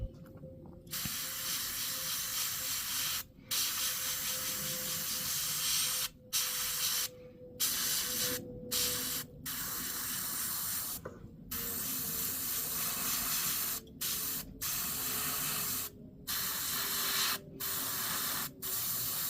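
Airbrush spraying paint onto a 1/1000 Bandai Space Battleship Yamato model kit, a budget unit giving steady hissing bursts broken by short pauses, close and fairly loud, with no talk.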